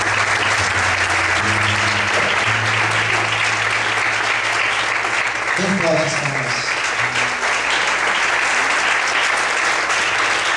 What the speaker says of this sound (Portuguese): Vamos aplaudir bem forte o Senhor Jesus